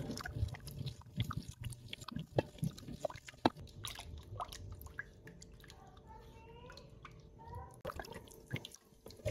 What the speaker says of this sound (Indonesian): tambahkan 2 liter air atau 2000 ml. Ini aku masukkan secara bertahap